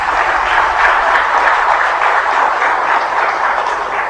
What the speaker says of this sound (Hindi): तालियां भगवान के लिए